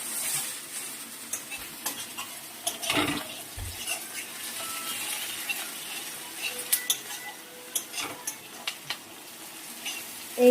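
Spices and tomato frying in a pan with meat nearby: a continuous sizzle under repeated scraping stirs and scattered utensil clinks, with one louder scrape partway through.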